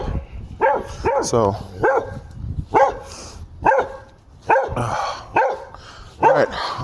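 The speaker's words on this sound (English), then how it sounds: "I am now here with Spike barking in the background" A dog named Spike barks repeatedly in sharp, loud yaps, with some whimpering yips among them, close by and interleaved with a person talking over the barking.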